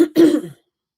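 A single short, harsh cough bursts out close by, then stops into silence.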